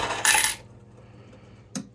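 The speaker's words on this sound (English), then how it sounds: "That 50p sounded like it fell into the machine." A 50p coin drops into a coin pusher machine with a bright metallic clatter, followed by quiet and then a second short clink about a second and a half later, close and clear.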